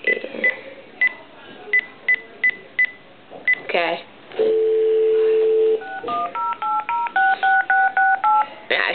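Telephone keypad dialing tones beep in quick rhythmic series, with a steady tone between them, while placing a prank call; a voice speaks briefly at the start.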